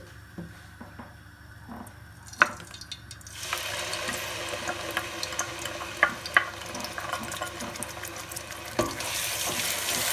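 Ground onion drops into hot cooking oil in a pan and begins sautéing; after a few faint clinks and stirs, a loud, steady sizzle takes over and runs to the end.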